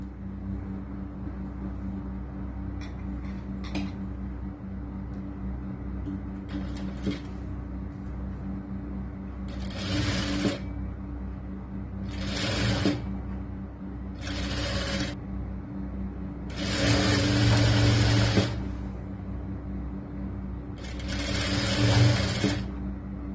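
A sewing machine stitches lining fabric onto the sleeve cloth of a churidar top. Quiet handling comes first, then several whirring bursts of stitching of varying length follow, separated by short pauses, with the longest bursts near the end.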